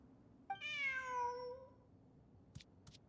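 A cat in the video game Genshin Impact gives one clear, drawn-out meow, fairly faint, followed by two quick clicks, with no talk over it.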